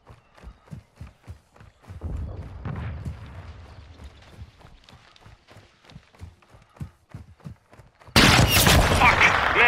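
Sniper gunfire in Call of Duty: Modern Warfare 2, with a run of regular footfall-like thuds, then a sudden loud blast near the end that cuts in sharply and stays harsh.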